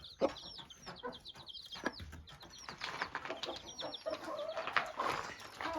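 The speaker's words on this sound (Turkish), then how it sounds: "Burada gürk tavuğumuz var." Soft, steady clucking from a broody speckled hen in the coop mixes with the frequent high peeping of her five newly hatched chicks, continuous and moderately close.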